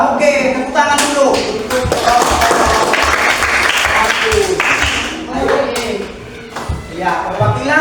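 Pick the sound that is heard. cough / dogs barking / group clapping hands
group clapping hands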